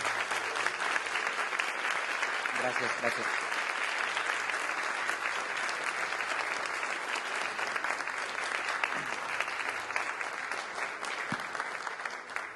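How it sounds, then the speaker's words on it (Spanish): Loud, sustained audience applause for Jorge after his talk, a dense steady clatter of many hands filling the room for over twelve seconds, with a voice briefly offering thanks over it. "Si le damos un aplauso fuerte a Jorge"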